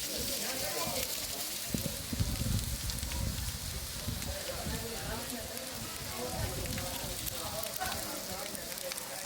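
Rain pours down steadily in Talaja, making a continuous patter and hiss on surfaces, with a brief louder burst of low rumble near the start.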